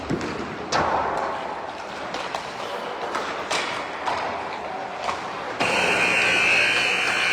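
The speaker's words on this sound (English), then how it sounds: "Buzzer has sounded, so they'll place 17 minutes on the clock." Ice hockey rink buzzer at a midget-level game, a loud sustained electronic blare cutting in after scattered thuds and rink clatter, continuing to the end.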